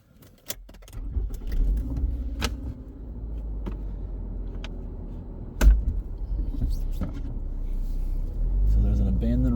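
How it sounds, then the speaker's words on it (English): A vehicle drives along a rural road in winter, its low engine rumble steady and close with occasional knocks and rattles inside the cabin; a voice speaks briefly over it. "we're in the vehicle and we're gonna go for a little drive"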